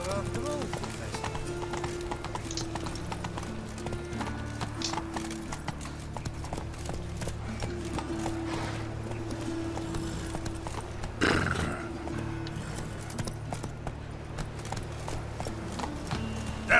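Roach the horse galloping in The Witcher 3: a steady, rapid hoof clatter continues throughout under a low ambient drone, with a louder thump near the middle.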